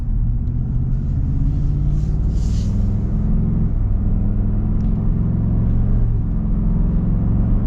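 A 2024 Ford Super Duty pickup truck cruises along, its engine a steady low rumble heard from inside the cab, with faint road noise and no talking.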